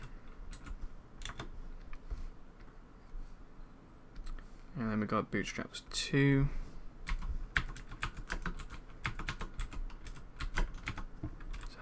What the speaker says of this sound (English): I'm typing with one hand here.